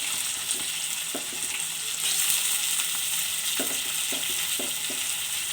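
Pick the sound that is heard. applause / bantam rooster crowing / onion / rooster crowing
onion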